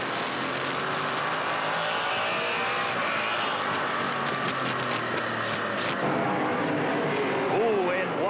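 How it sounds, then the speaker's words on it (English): NASCAR Pinty's Series stock cars racing at the 2020 QuickWick 125, engines roaring steadily and loud throughout with a pass into turns three and four, under continuous race commentary. "Kennington to the outside of Jason White, down into 3 and 4"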